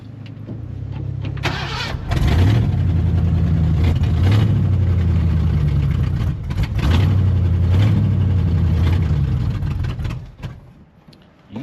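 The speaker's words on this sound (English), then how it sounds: "let's go in the cab, fire it up in there, and see if we can put her in the gear" The engine of an old Ford F150 Dentside pickup truck cranks, catches and runs loud and close, revving up several times in rough surges before it cuts out near the end.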